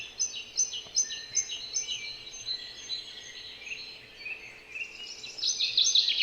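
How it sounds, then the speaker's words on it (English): Birds chirp and call back and forth outdoors, light repeated high tweets layered at moderate distance over a quiet background. "as these birds begin to call and communicate to one another."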